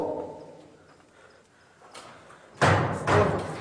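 An old door in a haunted haveli in Okara bangs and shakes: after a quieter stretch of faint rattling, two loud, close thuds hit about half a second apart, each ringing briefly.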